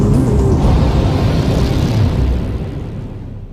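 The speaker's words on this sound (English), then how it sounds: "The upper stage of the rocket fires again." A rocket's upper stage engine fires with a loud, continuous broadband roar that holds steady and then slowly fades toward the end.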